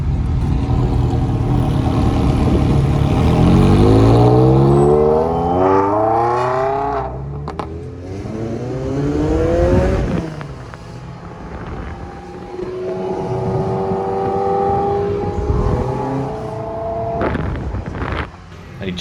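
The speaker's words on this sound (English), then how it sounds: "went for a cruise in a mate's Ferrari 328 GTS" A Ferrari 328 GTS sports car out on a cruise: the engine note rises and falls through gear changes as it accelerates, heard close from inside or beside the car with wind rush, loud and with no talking.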